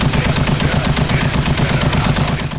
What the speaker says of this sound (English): Got the Barrett 50 cal.